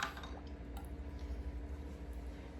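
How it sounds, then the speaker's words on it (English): Hot water runs into glass canning jars during home pressure canning of collard greens, a quiet close liquid pour and trickle over a low steady hum. "while we're filling the jars and getting the hot water in them"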